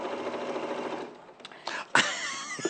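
A sewing machine runs steadily for about a second while stitching an apron strap, then falls quiet. A voice speaks over the pause and short clicks follow.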